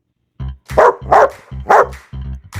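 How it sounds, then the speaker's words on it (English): A dog barks five times in a quick, loud, close run of bright barks with short gaps between them, and no other sound. "This is a dog."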